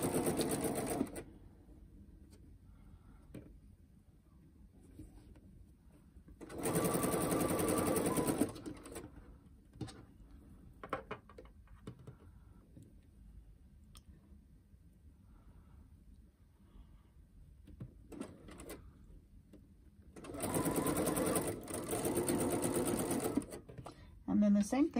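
A sewing machine backstitches elastic ear loops onto a fabric mask in three distinct loud bursts of rapid stitching, separated by quieter stretches with faint handling sounds.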